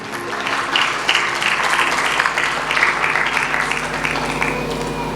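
A church congregation claps loudly and steadily during a sermon, a dense continuous burst of many hands that fills the whole stretch without pause.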